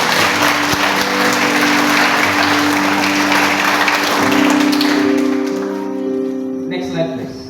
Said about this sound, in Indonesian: Berikan tepuk tangan Tuhan